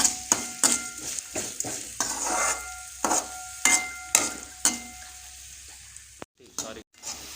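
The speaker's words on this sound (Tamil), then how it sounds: "வெங்காயம் பொன்னிறமாக வர வரையும் வதக்குங்க." Onions sauté in oil in a pan until golden, bursts of sizzling frying rising and falling in rhythm with repeated stirring strokes, close, with brief breaks near the end.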